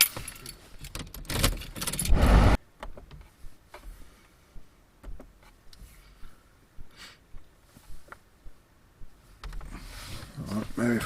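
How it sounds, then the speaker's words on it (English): Car keys jangle loudly up close for about two seconds, followed by quieter clicks and ticks as the ignition is switched on, with intermittent talk. "I should probably turn the key on"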